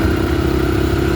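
A Honda 300EX ATV engine runs in second gear, a loud, close, steady drone with no break.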